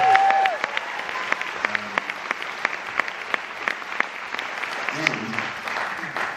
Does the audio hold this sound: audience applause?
yes